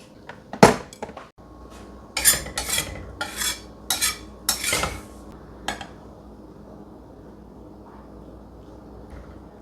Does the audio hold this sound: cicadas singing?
no